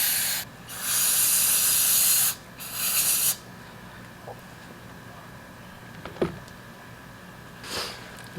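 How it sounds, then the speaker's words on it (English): Compressed air blasts in two loud hissing bursts, close up, while a Husqvarna chainsaw part is cleaned, followed by quieter room noise with a few small clicks. "try to clean this up a little bit more with some compressed air"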